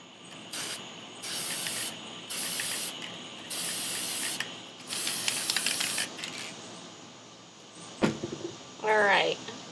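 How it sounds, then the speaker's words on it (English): A can of 18 karat gold spray paint hisses in several short bursts separated by pauses, close by, with a faint rattle and brief voice near the end. "I'm going to go ahead and use my gold spray paint in 18 karat gold"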